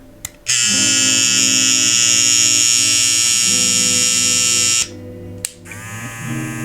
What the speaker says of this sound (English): The EXO trimmer, here's the sound again on that.